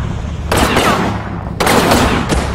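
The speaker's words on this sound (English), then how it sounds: "Mow down with the Garands, nice" M1 Garand rifles fire in the Combat Mission: Final Blitzkrieg World War II game as two loud, dense bursts of overlapping shots, with a short pause between them.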